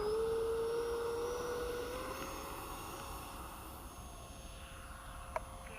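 A RebelV2 aircraft taking off with flaps set in moist air, a steady droning engine with a rising whine that levels off, fairly loud at first and slowly easing as it continues.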